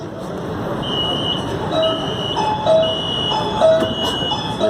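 A Lahore Metro train runs along the line between stations, giving a steady broadband rumble with faint tonal whines and squeals rising and falling throughout, heard alone with no talk.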